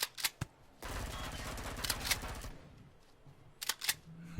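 A rifle reloads in the space survival video game Empyrion Galactic Survival, a run of quick mechanical clacks and rattles followed by sharp clicks and taps, fairly faint.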